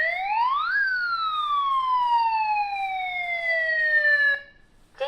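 A Tuya smart wifi gas alarm sounds its siren, a loud electronic tone that sweeps up and then glides slowly down for several seconds before cutting off, close and clear with no talk.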